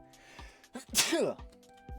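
During a B-League esports match broadcast, someone sneezes once, a short sharp burst in the middle, near the microphone, with voices talking briefly around it.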